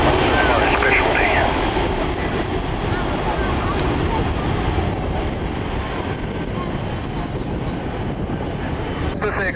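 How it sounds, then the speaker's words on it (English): A Boeing 747-400 with General Electric engines roars past at low level, a loud, broad jet rumble that fades slightly as it goes, with someone speaking over it. "This aircraft, ZK-SUH, a 747-400 with General Electric engines"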